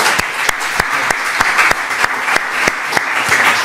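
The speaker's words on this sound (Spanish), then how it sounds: "un fuerte aplauso al profesor Dreisig y a todos vosotros" A lecture audience applauds a professor at a talk on the politics of the Anthropocene. The clapping is steady and continuous, with sharp individual claps standing out regularly above the dense wash of hands.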